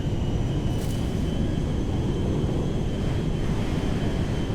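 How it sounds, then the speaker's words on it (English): Jet engines of an Antonov 225 Mriya at full throttle during takeoff from Sandy Shores in GTA 5, a steady, loud, broadband roar holding constant throughout with no break. "Ready to throttle up here. Full power."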